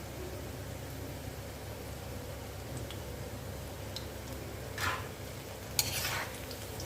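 Onion pakoda made from bajji batter deep-frying in hot oil, a steady quiet hiss and fizz with a few faint pops and one sharp clink, heard up close with no talking.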